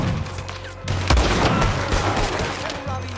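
Rapid bursts of gunfire crack and boom in a Red Dead Redemption 2 shootout at a fort, with dense overlapping shots and heavy low thuds rolling continuously and loudly throughout.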